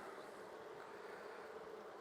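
A honey bee colony buzzes inside its hive in a steady, dense drone, close and continuous with a slight wavering hum and no pauses.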